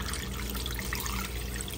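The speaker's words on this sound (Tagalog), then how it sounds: "I will add water." Water is poured into a pot of pig's feet, making a steady, soft trickling splash that runs continuously at low level with no voices.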